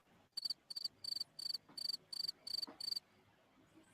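A cricket chirps in eight regular bursts, each a rapid trill of pulses, loud and close with even spacing, then stops, leaving a faint background.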